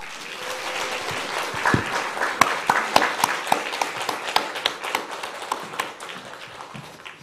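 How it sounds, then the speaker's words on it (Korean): Church congregation at a Sunday morning service giving a big round of applause to welcome the pastor, many hands clapping in a sustained moderate-volume patter with sharper individual claps standing out, fading slightly toward the end. "나오실 때 우리 다 함께 큰 박수로 환영하겠습니다"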